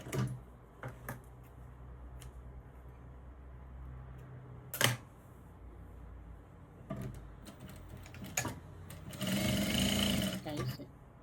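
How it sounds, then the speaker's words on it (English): A sewing machine topstitches along both sides of a pants seam allowance, running in short quiet bursts and then a louder sustained run near the end, while a person talks in the background. "then you top stitch on both sides of the seam allowance"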